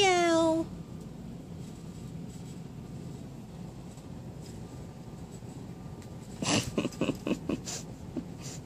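A cat gives a single drawn-out meow at the start, followed by quiet room noise and then a burst of soft snorting and rustling close to the microphone.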